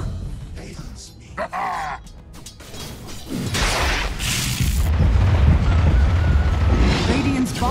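Dota 2 match with the Radiant bottom tower under attack: low rumbling booms and crashing impacts build into a loud, sustained roar of explosions and mechanical clatter, with a faint voice-like layer running underneath.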